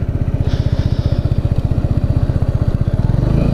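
Kawasaki Z125 motorcycle engine revving hard in a wheelie attempt, a loud, rapid, steady stream of exhaust pulses that thickens and deepens toward the end.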